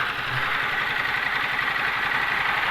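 A Ducati DesertX motorcycle engine idles close by, with a steady low throbbing rumble and uneven pulsing as the revs sag, running alone without talk.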